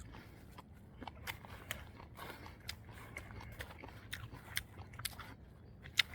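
An unpeeled Aori apple is bitten and chewed close by, with faint, irregular crunchy clicks over a quiet background and no talking.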